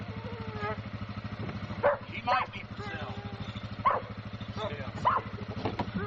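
A five-month-old male dog kept on a chain in a yard barks in a few spaced bursts over a steady low engine-like hum, while someone talks nearby.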